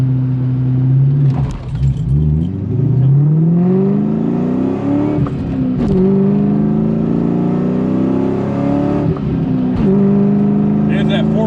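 A 1999 Ford Mustang SVT Cobra with a 4.6-liter V8, fitted with an off-road X-pipe and mufflers, launches hard with loud, rising exhaust roars through three gear pulls, up close and with no talk over it.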